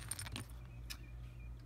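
A small keychain turned into charms jingles briefly with light metallic tinkles near the start and one more near the middle, set against a low steady hum.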